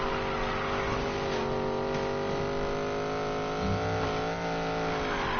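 Race car in a video game, its engine holding a loud, steady, harmonic drone that shifts pitch slightly as it revs, continuous and close with no voices.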